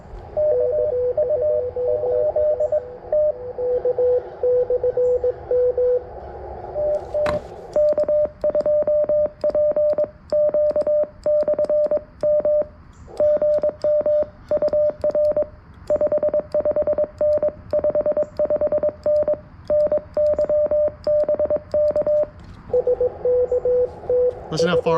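A CW Morse code signal received on an FX-4CR radio during a morning POTA session, a steady keyed tone tapping out dots and dashes against a hissing, crackling band with bursts of static.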